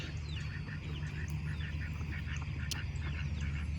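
Three small ducks quack in short repeated calls from a farm pen, fairly close and steady, over a constant low mechanical hum.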